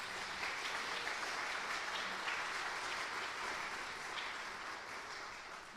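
An audience at a city's State of the City address gives a sustained round of applause, a dense, even wash of clapping that holds steady for several seconds before slowly tapering, with no one speaking over it.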